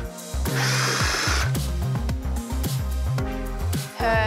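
A food processor whirs in short motor pulses, chopping fresh herbs into a pumpkin and zucchini tart filling, with the loud buzzing bursts starting and stopping in quick succession, close up and without talk.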